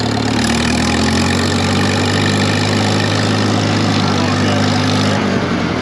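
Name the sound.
Farmall 706 Hi-Clear tractor engine running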